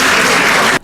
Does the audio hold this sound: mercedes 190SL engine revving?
no